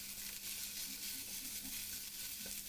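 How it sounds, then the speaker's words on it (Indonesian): Ginger, galangal, leaves, star anise, cloves and cinnamon stirred in a pot for chicken soup, giving a steady close sizzle with soft scraping stirs throughout and no talking. "Kita aduk hingga sedikit layu."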